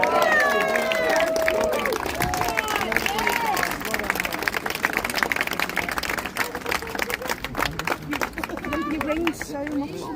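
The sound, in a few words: crowd applause for Roger's speech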